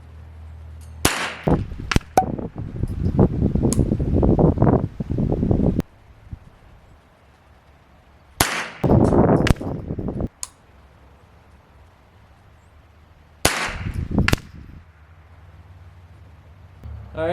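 A rifle fires three spaced shots for a grouping test, each a loud, sharp crack with a rumbling tail, separated by several seconds of quiet.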